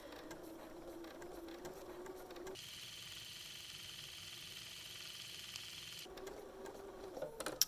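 Domestic sewing machine free-motion thread painting a mandala with Aurifil thread, a steady mechanical whir running continuously with a brief pause in stitching tone mid-clip, close and moderately loud.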